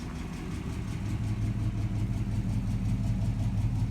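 A classic American car with a 272 V8 and 3-speed manual idles steadily up close, its low, even rumble continuous and loud with no voices over it.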